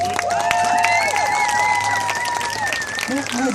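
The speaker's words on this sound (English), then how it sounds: "Give him a big round of applause." Crowd at an outdoor parents' rally in Ontario bursting into applause and cheering, loud sustained clapping with whistles and voices mixed in.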